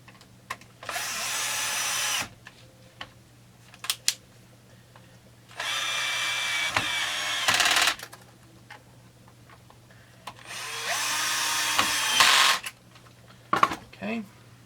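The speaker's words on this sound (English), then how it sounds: "And now we put the screws down." A power drill drives screws back into a Ridgid shop vac after a thermal fuse replacement, three loud buzzing bursts of a couple of seconds each, with small clicks and taps of handling between them.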